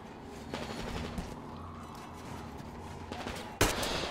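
Scattered gunfire from a firefight against human enemies in Metro Exodus, several distant pops and short bursts followed by one loud close shot near the end.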